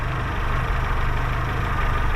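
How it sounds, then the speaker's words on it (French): A small Peugeot 205 petrol engine idles just after starting, giving a steady, even, close rumble that continues without a break, with no voices. "Bon bah voilà, on voit le petit moteur là qui fonctionne."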